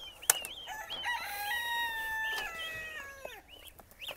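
Two-week-old goslings or chicks peep in a rapid, continuous run of high, rising and falling chirps, close and fairly loud, with no talking.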